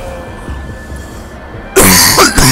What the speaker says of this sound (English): got distracted from coughing